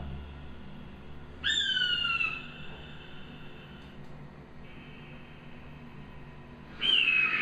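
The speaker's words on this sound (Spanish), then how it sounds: "el águila es un pitazo lo que tiene su sonido" An eagle gives a sharp, high whistling call twice, a few seconds apart, each a short descending note over quiet outdoor background.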